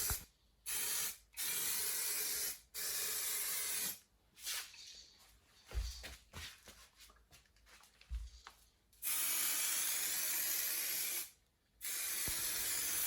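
Aerosol can spraying lacquer onto a car bumper in long steady hissing bursts of a second or two, broken by short pauses and faint handling noises, close and fairly loud with no talking.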